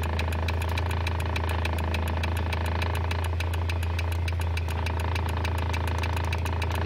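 A 1984 Toyota 4Runner with an upgraded GM alternator idling, a steady close low rumble with a fast regular ticking pulse over it, running evenly throughout.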